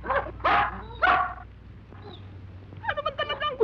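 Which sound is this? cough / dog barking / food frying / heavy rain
dog barking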